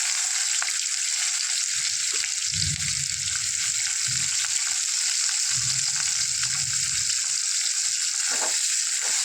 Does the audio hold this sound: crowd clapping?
no